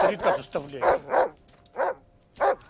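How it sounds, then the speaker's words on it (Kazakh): A dog barking protectively in the 2021 film Palma: six loud, close barks in uneven bursts, some in quick pairs and others spaced apart, with no other voices. "ит ол баланы қорғаштап үреді"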